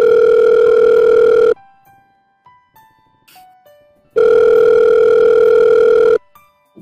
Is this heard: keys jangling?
no